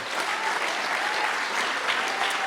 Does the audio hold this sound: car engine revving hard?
no